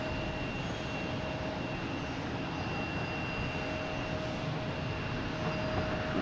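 An American E175 jet arrives at Boston Logan Airport, a steady broadband engine roar holding evenly throughout, with faint tonal whines riding over the rumble.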